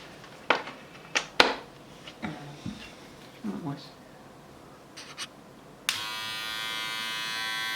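After a few clicks and handling noises, a Braun Series 1 130 electric shaver switches on and runs with a steady, high-pitched buzzing hum up close.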